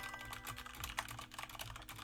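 Fast typing on a computer keyboard during an online speed typing test, a dense continuous clatter of keystrokes with no pauses, fairly loud and close, with no talking.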